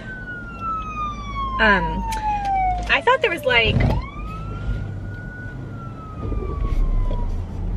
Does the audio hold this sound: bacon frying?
no